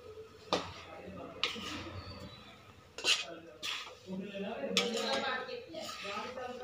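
Heavy pinni mixture stirred in a hot kadhai, with a spoon scraping and knocking against the metal in irregular clanks amid rustling, and faint talk in the background.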